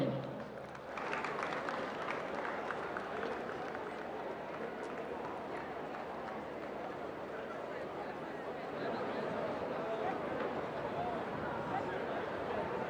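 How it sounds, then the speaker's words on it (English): Sustained dense audience applause fills a large police award ceremony hall as a medal is presented, a steady loud wash of clapping with crowd noise and a voice briefly audible beneath it. "Please a round of applause for him."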